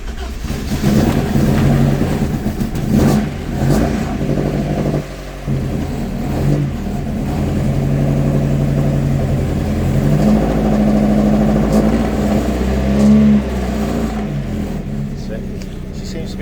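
A Ford Escort Mk2 engine cranks, catches and runs with a deep rumble, revving up and settling back, loud and close, with voices talking over it.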